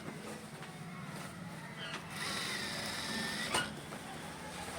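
A sewing machine runs in short mechanical bursts while stitching a shirt sleeve, a close whirring hum with a brief louder rattle toward the end, no voices.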